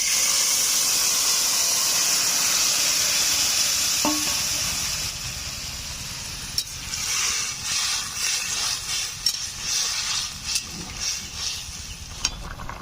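Fish broth poured into a hot pan for a village-style fish curry, giving a steady bright hiss that eases after a few seconds into softer sizzling with scattered small pops and crackles, close and without talk.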